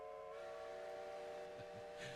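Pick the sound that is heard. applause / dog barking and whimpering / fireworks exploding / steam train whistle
steam train whistle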